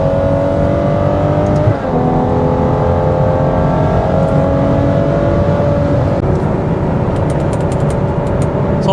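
A Ferrari 812 Superfast V12 pulls hard on the Autobahn at high speed, heard from inside the car as a loud, continuous engine note climbing in pitch, with a brief shift partway through and wind roar underneath.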